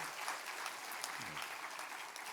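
Church congregation applauding volunteers during a Sunday morning service, a steady, dense wash of clapping from a full room that holds evenly for a couple of seconds.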